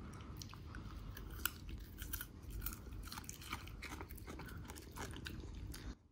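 A dachshund crunching and chewing a carrot up close, steady wet bites and crisp snaps repeating for several seconds with no talking, then stopping abruptly.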